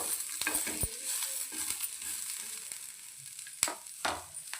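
Sliced onions sizzle steadily in a pan as they brown for a vegetable biryani, with a constant hiss and a few sharp clinks and scrapes of a stirring spoon.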